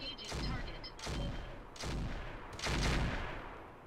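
Salvo of weapons fire from a BattleTech mech in the Roguetech game, with four booming bursts spaced roughly a second apart, loud and close.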